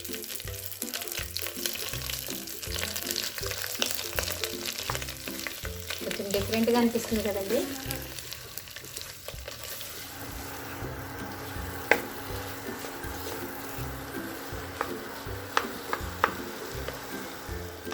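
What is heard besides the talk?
boiled dal frying in ghee tempering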